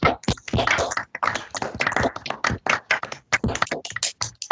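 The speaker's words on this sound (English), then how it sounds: "let's unmute ourselves and applaud for Nicolò's brilliant talk" Applause at the end of an online seminar talk, with dense, uneven clapping from several people through unmuted microphones, loud and close, pausing briefly and then carrying on.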